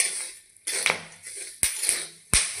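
Corn kernels popping in an empty dry wok with no sand or salt: three sharp, loud pops arrive at irregular intervals, each followed by a brief rattling clatter as kernels scatter against the metal.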